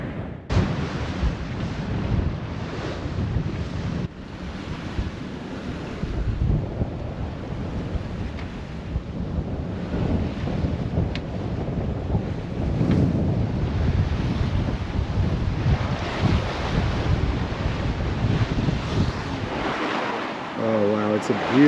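Rough North Sea waves and strong wind roar continuously around a Hallberg Rassy 44 sailing yacht under reefed genoa and full main, with loud broadband surf and gusty wind buffeting close to the microphone throughout.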